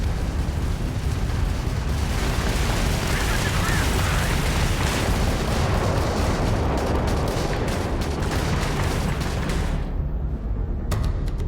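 Weapons fire and explosions from a Crimson Fleet starship attack in Starfield form a loud, unbroken barrage of booming blasts and crackling shots that cuts off abruptly near the end.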